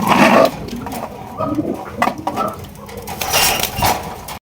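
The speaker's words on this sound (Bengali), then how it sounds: "আর আপনারা হয়তো কোকার ডাক শুনতেছেন" Pigeons coo at a pigeon sale, with soft repeated coos over a busy, clattery background and a loud burst at the start, close and without talk.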